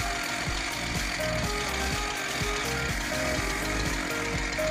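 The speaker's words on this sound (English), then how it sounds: "that winch I'm using is just a Harbor Freight winch" A Harbor Freight winch ratcheting on a homemade firewood processor, a rapid, steady run of loud mechanical clicks over a constant machine drone.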